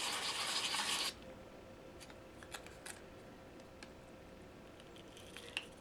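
A knife pivot washer being lapped on rough paper coated with metal polish: a brief loud scrubbing burst at the start, then faint scattered rubbing scratches.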